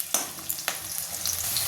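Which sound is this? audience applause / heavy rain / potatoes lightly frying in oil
potatoes lightly frying in oil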